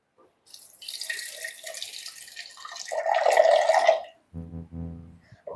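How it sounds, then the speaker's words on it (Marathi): Water is poured into a washed mixer grinder jar while peanut amti is made for a Navratri fast. A steady, close splashing stream builds for about four seconds, then stops, and a brief hollow ringing of the jar follows. "मिक्सरच्या भांड्यामध्ये मिक्सरचं भांडं धुवून पाणी टाकायचं आहे"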